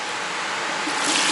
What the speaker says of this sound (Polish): ale sobie najpierw uszykuję tutaj wodę we wiaderko